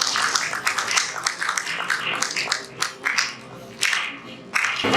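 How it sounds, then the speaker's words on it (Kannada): Applause breaks out in choppy bursts at a Karnataka Rajyotsava award ceremony held by Gulbarga University's publication wing, clapping swelling and dropping several times within a few seconds. "ಜೋರಾದ ಚಪ್ಪಾಳೆಗಳು."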